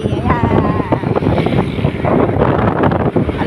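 Cold wind blows across a bridge in the early morning, producing gusty, buffeting rumble against the microphone. A voice talks briefly over it.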